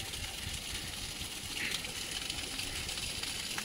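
A small waterfall at the Ajanta caves pours in a faint, steady broadband rush heard from some distance, an even wash of falling water with no talking.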